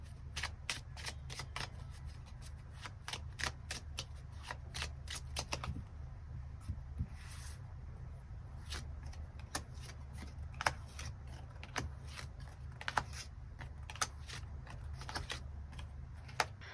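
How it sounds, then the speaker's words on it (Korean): Tarot cards are shuffled and drawn in a quiet room, a rapid run of crisp riffling flicks that pauses briefly, then gives way to scattered slaps and slides of single cards being laid out. "일별로 월요일부터 일요일까지 어떤 하루를 보내게 될지 추가 카드 뽑아보도록 하겠습니다."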